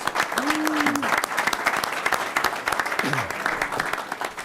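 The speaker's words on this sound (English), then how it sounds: "So a round of applause for all of our National Merit qualifying students." A high school board meeting audience applauds National Merit qualifying students, a dense, steady round of clapping with a couple of short voices over it.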